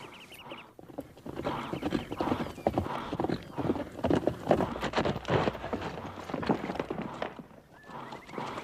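Horse hooves gallop in a Western film scene, a rapid run of drumming clip-clop beats that rises to a loud, close peak and then fades, with a brief whinny.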